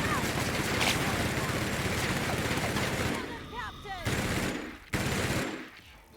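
Sustained automatic gunfire in The Outer Worlds combat, dense and rapid for several seconds, then breaking into shorter bursts with brief pauses; a voice is faintly mixed in.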